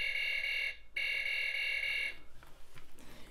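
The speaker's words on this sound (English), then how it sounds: "his laser, it is movie accurate, so yeah, it has the same sound as in the movie." Toy Story Buzz Lightyear action figure laser sound effect, a steady electronic beeping tone with a brief break, then softer fluttering clicks, faint and alone.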